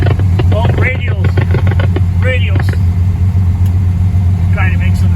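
An old car engine running on the choke gives a steady low rumble throughout, with a person talking over it.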